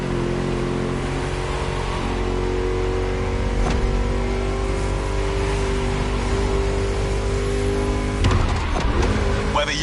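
A car engine accelerates in The Crew racing game, a steady loud roar under road noise that rises in places, with a brief whoosh near the end and no speech.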